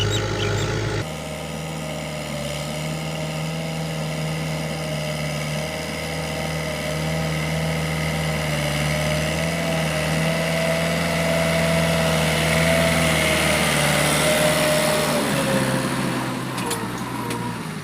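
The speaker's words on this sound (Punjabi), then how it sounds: "ਟਰੈਕਟਰ ਆਉਂਦਾ ਪਿਆ ਹਲ ਮਰਾਣੇ ਆ ਜਵਾਰ ਬੀਜਣ ਵਾਸਤੇ" A tractor engine arriving to plough a field for sowing sorghum: a steady, fairly loud diesel rumble and drone that holds nearly unchanged throughout, with no talk over it.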